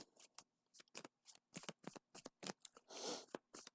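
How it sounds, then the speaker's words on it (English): Cards riffled and shuffled in a series of quick, crisp bursts, close up, ending in a longer flutter as the deck is bridged together; no talking. "I'm going to take the remaining cards and I'm just going to give them a quick shuffle"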